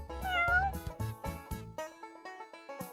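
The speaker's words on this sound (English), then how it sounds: "This is my cat, Pumpkin." A big orange cat meows several times, near and clear: a long drawn-out meow first, then a run of shorter, rhythmic mews.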